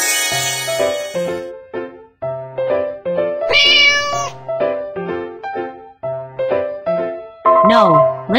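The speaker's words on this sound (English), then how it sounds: "Cat." A cat meows in a cartoon hearing test, giving several close, clear meows in an uneven rhythm that end with a rising, drawn-out call.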